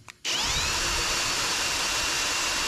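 A power drill bores through a spot weld on a car body panel, spinning up abruptly after a brief pause into a loud, sustained high-pitched whine close by.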